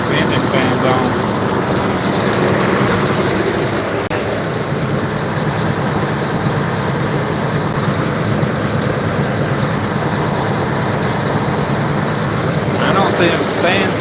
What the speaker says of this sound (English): Sounds like the engine fan's on.